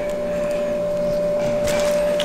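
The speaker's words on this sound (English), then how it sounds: "I'm gonna vacuum seal this." A vacuum sealer sealing chunks of bluefin tuna gives a loud, steady motor hum with a fixed whining tone, running continuously with a brief rise in hiss toward the end.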